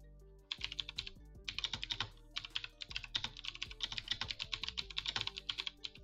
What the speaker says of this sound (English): Sorry, my keyboard is loud.